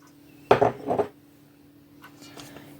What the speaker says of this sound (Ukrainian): І добресенько все це помішали.